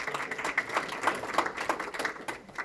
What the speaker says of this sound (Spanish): Un aplauso para ellos que vinieron de lejos.